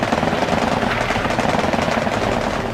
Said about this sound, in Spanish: Las baterías chinas abren fuego.